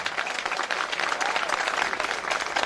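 A party audience at a birthday music gathering gives a warm round of applause for a musician, dense continuous clapping throughout.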